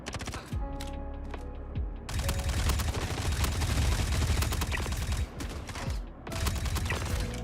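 Rapid full-automatic gunfire rattles in dense bursts inside the space game Star Citizen, loud and close, with short pauses between volleys and a mechanical reload clack early on.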